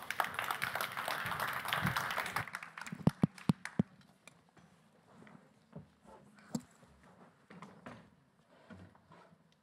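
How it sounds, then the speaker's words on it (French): An audience at a French sports conference gives a short burst of applause that fades into a few scattered claps, then goes quiet apart from faint shuffling and isolated sharp taps. "Sous vos applaudissements, mesdames, messieurs."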